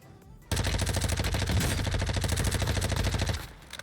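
Rapid sustained SMG fire from Warzone 2, a dense automatic burst lasting nearly three seconds, loud and close, then cutting off abruptly.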